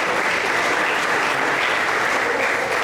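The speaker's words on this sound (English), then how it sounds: "Give yourselves a round of applause." Audience applause at a summer speaker event, dense and steady for the whole stretch, loud and close, with no voices standing out.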